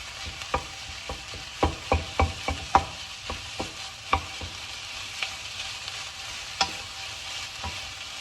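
Minced meat frying with onion and garlic in a pan as a spatula breaks it up, giving a low sizzle broken by a run of sharp scraping taps that cluster in the first few seconds, then space out.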